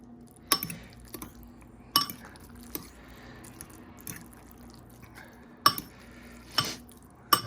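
Ramen noodles are stirred through an egg wash in a bowl, giving sparse, sharp clinks of utensil against the dish between quiet wet mixing sounds.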